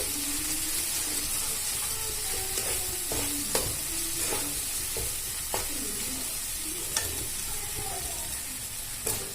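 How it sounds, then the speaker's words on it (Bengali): Cashew paste fries in a pan with a soft steady sizzle, stirred now and then with distinct scraping clinks of a utensil, close and fairly quiet with no speech. "আমার কাজুটা ভাজা হয়ে গেছে"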